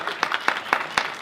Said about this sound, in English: If you listen to the podcast, you definitely don't need to clap for that